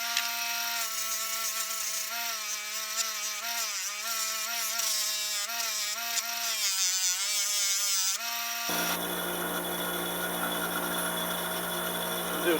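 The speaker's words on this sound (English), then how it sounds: "now we're over at our buffing wheel. We're gonna polish" A buffing wheel polishes small steel rifle bolt parts from a Remington Nylon 66, making a close, whining motor tone that shifts in pitch as the parts press against it, then gives way to a lower hum near the end.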